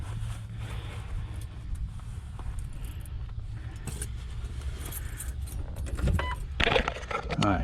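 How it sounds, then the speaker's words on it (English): Keys jangle as they are pulled from a pocket beside a Jeep Wrangler TJ in neutral, with a steady low engine-like rumble underneath and brighter metallic clinking that grows louder toward the end. "Get my keys out of my pocket."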